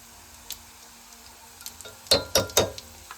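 Cumin seeds drop into hot oil for a tempering and crackle close by, with a few sharp pops and clinks against the pan arriving in a quick cluster after a quiet start.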